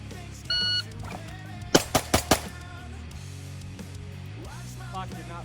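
A shot timer beeps once at a shooting range, followed by four sharp pistol shots from a Walther PDP in quick succession, close and loud over steady background hum.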